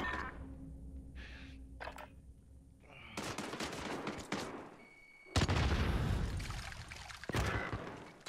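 Gunfire in Call of Duty Modern Warfare: separate shots and then loud, fast bursts of automatic fire close by, with short pauses between the volleys.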